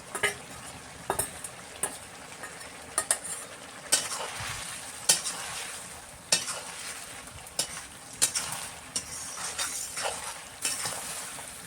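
Ginger and cumin paste fries in a pan with a soft sizzle while a utensil scrapes and knocks against the metal in irregular stirring strokes, close and moderately loud, with no talking.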